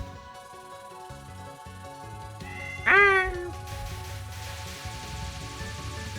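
A single bright cat-like meow from the character Orin in the shmup Touhou 11, rising sharply at mid-clip over a busy, steady game soundtrack with shots and effects.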